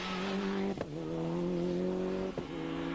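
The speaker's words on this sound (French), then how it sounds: "Chris Prinsen s'élance dans la première spéciale, celle de fuir." A rally car launches into the opening special stage of the 1998 Hautes-Fagnes Rally on a very greasy road, its engine holding a loud steady drone close by, broken by two sharp gear-change dips before surging again.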